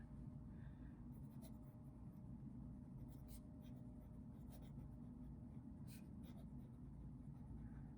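A Lamy Safari fountain pen with an extra fine nib scratching steadily across paper, a faint continuous scratch under low background rumble with a few brief ticks.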